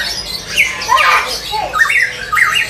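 Short, bright chirping squawks come from a cucak emas songbird at a busy bird market, several quick calls in a row, close and fairly loud over faint background noise.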